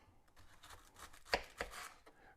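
A knife slicing onion on a cutting board, a few quiet cuts with two crisper knocks against the board near the middle, heard close and faint, with no talking.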